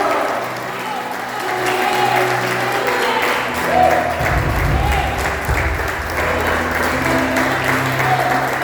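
A church congregation applauds during an evening service, a broad wash of clapping that swells partway through and carries on steadily under a preacher's voice and some cheering.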